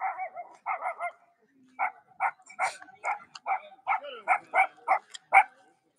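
A small dog barks during an afternoon walk through a residential neighborhood at Christmastime, letting out a rapid string of sharp, close yips and barks in irregular bursts with brief pauses between them.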